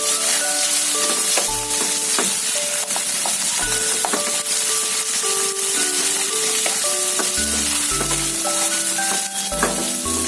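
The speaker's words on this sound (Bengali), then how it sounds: "পেঁয়াজটা আমি আর বেশি ভাজবো না, জাস্ট একটুখানি কালারটা চেঞ্জ হবে পেঁয়াজটা, সেইটুকু ভাজবো।" Chopped medium onion frying with whole cumin seeds in a pan for a Bengali egg curry, giving a steady, loud, continuous sizzle throughout with occasional stirring clatter.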